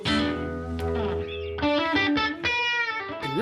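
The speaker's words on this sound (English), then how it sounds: "Lead with distortion notes." A distorted electric guitar lead from a blues, soul and gospel band's studio performance, sustained notes and bends ringing loud and saturated with slight reverb, played alone without voices.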